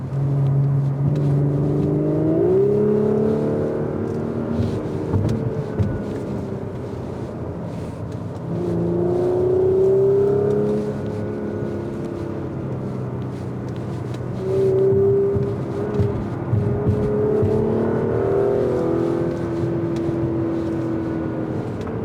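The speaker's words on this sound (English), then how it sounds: "you can hear those backfires" A 2022 Audi S4 driven hard in sport mode along a mountain pass road, its engine revving up and down in long swells with faint exhaust pops and crackles under the steady cabin drone.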